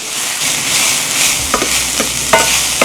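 Chili con carne ingredients sizzle loudly in a hot oiled pan, a steady close hiss broken by a few sharp scraping stirs.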